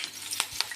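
Spices hitting hot leftover frying oil for a Gujarati tempering, with a steady soft sizzle and two sharp crackling pops.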